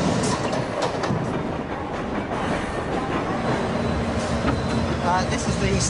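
A train rumbles and clatters at a railway station in India, a constant loud rolling noise with wheel clicks and faint squeals, voices mixed into the din.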